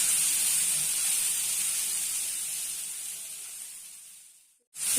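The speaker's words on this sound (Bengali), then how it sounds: "এবার ভালো করে এটাকে ভাজা ভাজা করবো।" Sliced onions fry for chotpota onion fry in a pan with a steady, bright sizzle that slowly fades, then stops abruptly and returns near the end.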